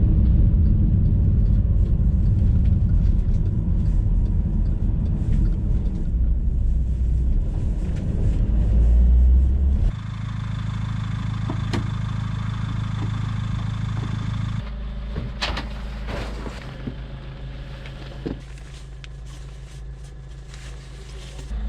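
A car drives toward a coastal path near Clevedon, a steady low engine and road rumble heard from inside that shifts character partway through, with wind buffeting the microphone.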